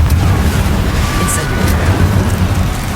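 A Confringo blasting spell explodes in the Hogwarts Legacy video game, a loud, deep booming rumble with a sharp crackle partway through, sustained across the whole moment with no clear talk.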